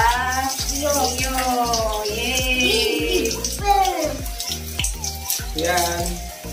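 Running shower water at a resort swimming pool sprays steadily under excited children's and adults' voices, with shouts and laughter close by.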